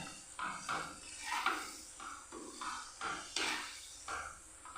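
A spoon stirring Kottayam-style fish curry with soaked kudampuli in a pot, giving a series of soft repeated scraping and clinking strokes at a fairly even rhythm, quiet and close with no talking.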